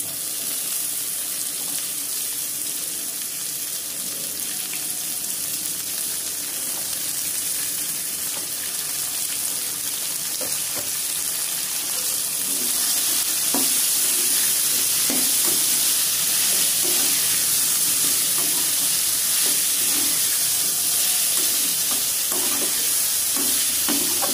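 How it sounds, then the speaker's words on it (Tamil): Potato, carrot, beans and peas sautéing in a pan for rava idli, a steady low sizzle with occasional stirring scrapes and clinks, fairly constant throughout with no one talking. "இது வதங்கட்டும்."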